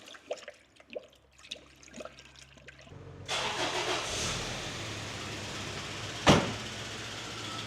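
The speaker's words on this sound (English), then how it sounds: "I've started the car, obviously, and I've got the heater wide open" A 1st Gen Toyota 4Runner engine cranks and catches after a few quiet clicks and knocks, then settles into a steady running hum with one sharp knock partway through.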